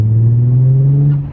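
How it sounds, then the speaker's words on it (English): Car exhaust giving a steady droning whine as the engine is revved, close and loud for about a second before fading slightly. "That actually is the exhaust whistling."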